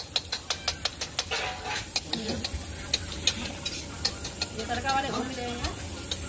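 Spices temper in hot oil for a bitter gourd curry, giving a quiet, hissing sizzle. Steady rhythmic clicks of stirring run under it, and voices talk nearby.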